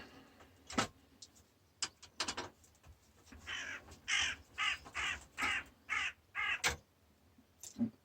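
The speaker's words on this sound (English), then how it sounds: "Crows are on the way." Repeated crow caws in short bursts, some single and some in quick runs of harsh calls, fairly close and loud against quiet surroundings.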